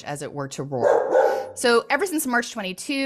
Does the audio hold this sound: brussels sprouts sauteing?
no